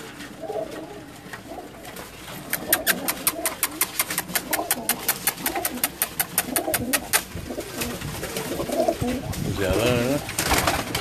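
Pigeons cooing on a rooftop, repeated soft coos alongside a quick run of regular clicks or flaps, with people talking nearby.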